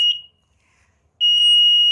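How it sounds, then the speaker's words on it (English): Arduino buzzer in a landslide early warning system sounds a steady high-pitched electronic tone, a short beep, then a pause, then a sustained loud tone resuming alone. "you can hear that the buzzer is sounded"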